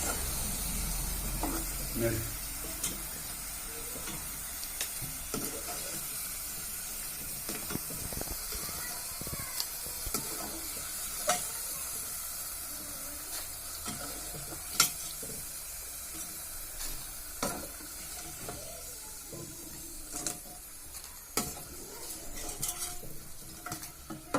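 Potatoes frying in a pan for potato pickle are stirred, making a continuous soft sizzle with scattered scraping and clinking taps of the spoon against the pan throughout.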